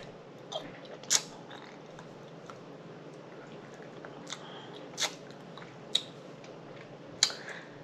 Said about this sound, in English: That crunch is amazing, ain't it?